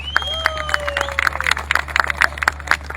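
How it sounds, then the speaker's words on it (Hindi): Audience clapping at a wellness company's event, a sparse, irregular run of claps over a steady low hum, with a whistling tone at the start. "तालियां कमजोर हैं आपकी"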